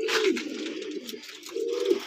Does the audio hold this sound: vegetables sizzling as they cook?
no